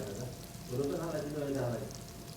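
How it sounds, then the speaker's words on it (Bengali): Onion, chili and garlic sizzling in a pan, a steady crackling fry close by with a voice talking faintly over it. "পেঁয়াজ, মরিচ, রসুন দিয়ে দিচ্ছি লাল করে"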